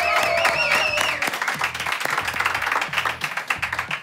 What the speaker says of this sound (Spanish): También aplausos, gritos y ovación para Túnel